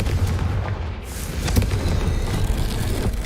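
Confringo fire-blast spell exploding in Hogwarts Legacy, a heavy low boom with a rumbling tail and a few further thuds, loud and close with no talk.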